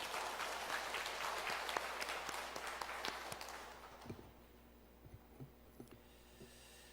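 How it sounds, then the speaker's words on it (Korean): A church congregation applauds loudly for several seconds, then the clapping fades out, leaving a few scattered claps over a low room hum. "다시 한번 영광의 박수를 올립니다"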